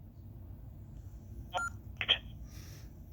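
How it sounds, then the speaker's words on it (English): Two short electronic beeps from a digital radio after an NXDN unlink command, close and clear, against a quiet background hum. "it beeps, but it should say not linked"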